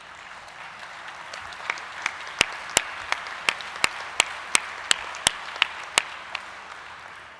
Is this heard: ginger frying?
no